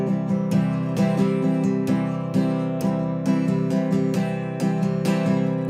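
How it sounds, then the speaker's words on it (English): Acoustic guitar strummed at full speed in a steady sixteenth-note down-up pattern for a song, with sharp repeated strokes ringing full chords, close and loud with no talking. "So it's a 16th note strumming pattern."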